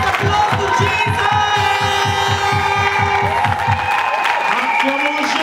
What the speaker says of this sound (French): And we now send those applause to Jesus.